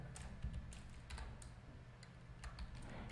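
Soft, scattered keystrokes as code is typed on a computer keyboard, faint and close, irregular taps spread across a few seconds over low background rumble.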